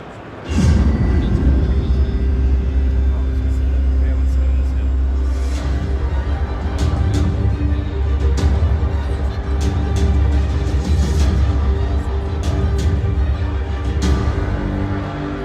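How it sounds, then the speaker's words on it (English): An all-electric, Mustang-inspired Ford performance SUV drives past with a steady, loud rumbling road roar that swells early and holds throughout, with faint clicks and knocks scattered above. "That's the all-electric Mustang-inspired performance SUV that's going to go on sale next year"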